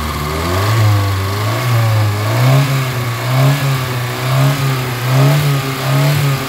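Kia Pride car engine with low power and white smoke, needing an oil change, revving up and down in repeated rising and falling surges, loud and close, with no talking.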